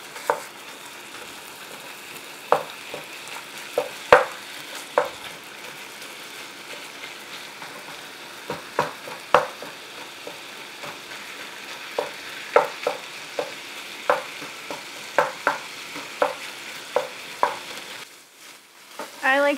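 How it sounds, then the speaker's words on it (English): Taco meat sizzles steadily in a hot pan while a spatula repeatedly scrapes and chops through it, sharp irregular taps and scrapes over a constant frying hiss, close up with no talk. "To just keep moving my taco meat and chopping it up and trying to get it into uniform pieces."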